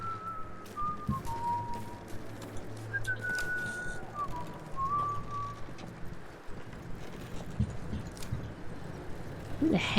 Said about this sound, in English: Who the heck is whistling right now?